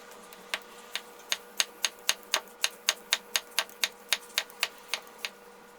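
A knife slicing a shallot on a cutting board, a steady series of about eighteen sharp, evenly spaced chops, close and crisp over a quiet background.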